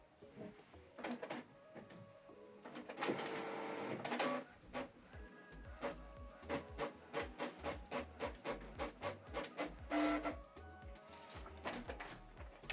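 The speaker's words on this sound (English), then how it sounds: "So it's going to print a test page." A Canon Pixma TS4150i inkjet printer runs a test page, with rhythmic mechanical whirring and repeated feed clicks and shuffles, close and fairly quiet with no talk.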